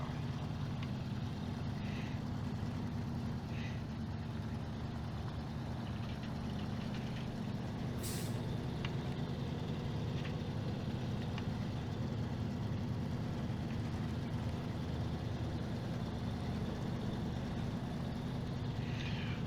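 An old big-rig truck idles and rumbles in SnowRunner: a steady, low engine drone that runs unbroken the whole time, with a few faint clicks and a brief sharp tick partway through.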